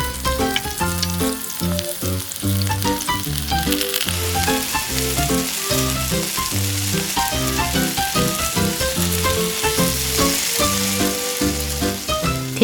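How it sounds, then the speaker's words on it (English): Food fries in a tiny pot on a miniature stove, giving a strong continuous sizzle that sits under loud, rhythmic tonal music throughout. "Fry until golden brown on both sides."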